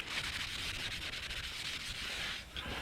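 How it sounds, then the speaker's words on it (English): A brake rotor from the front brakes of a 2012 GMC Yukon is cleaned by scrubbing. The rub is a steady, close, hissing abrasion that continues unbroken for a few seconds, with no voices. "And now we continue with cleaning the rotor."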